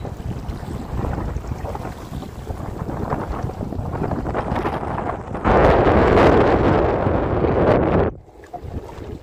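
Strong gusty wind roars across the microphone with river waves sloshing below in the Sundarbans, swelling into a louder, harsher blast for a few seconds before easing off.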